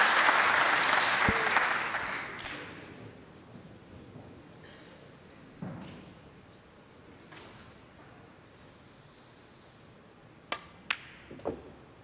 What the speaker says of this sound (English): They can applaud now, they can shout now.